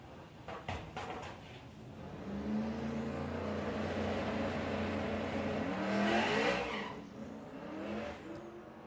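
A turbocharged drag race car accelerates down the strip at a VW drag racing Summer Nationals event, its distant engine rising in pitch as it revs and the roar swelling, then fading away.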